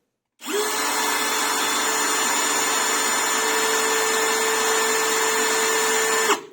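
A Parkside Performance PBSPA 12 C3 cordless drill runs in second gear, giving a steady, loud motor whine for about six seconds. It starts and stops cleanly, with no talking.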